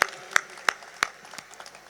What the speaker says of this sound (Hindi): एक बार जोरदार ताली बजा दे उस गीत के लिए।